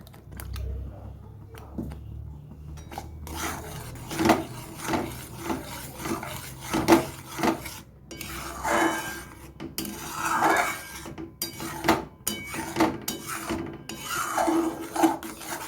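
Mango pudding mixture is stirred in a pan, with repeated scraping and rubbing strokes of a utensil against the metal in an uneven rhythm. A voice speaks intermittently throughout.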